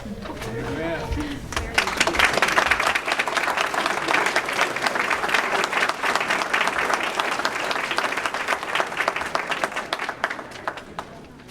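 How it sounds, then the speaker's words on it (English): Graduation ceremony audience giving the parents a round of applause: a broad, sustained wave of many hands clapping, swelling quickly after a brief voice at the start, then holding steady and thinning toward the end. "all of us give them a round of applause"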